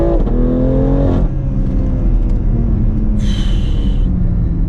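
A BMW X3M's engine roars loud and close through a 0 to 60 acceleration run, its note climbing through rising gear pulls with a brief break at a shift, then a higher surge.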